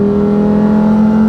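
Lamborghini Huracan Sterrato engine running in sport mode, a steady, loud droning hum holding an even pitch throughout, heard close with no talk.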